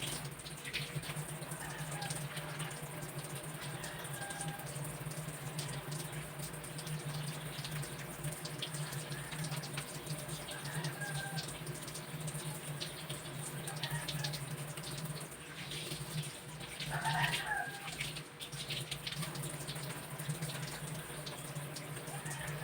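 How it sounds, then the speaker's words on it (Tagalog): Water runs steadily from a sink tap during thorough hand washing, a constant soft hiss with occasional faint splashes and clinks, fairly quiet and without talk. "now I'm going to perform thorough hand washing to deter the spread of pathogenic microorganisms"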